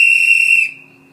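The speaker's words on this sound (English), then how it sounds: "when we do one long whistle," One long whistle blown on a playground, a loud, steady, piercing tone held for over half a second before it cuts off and leaves a faint hum.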